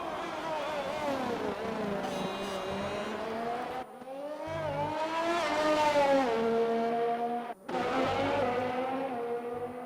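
A GP3 single-seater racing car on an onboard lap of the Hungarian Grand Prix circuit screams through the gears, its pitch climbing and dropping sharply at shifts and braking, loud and close, with faint commentary beneath.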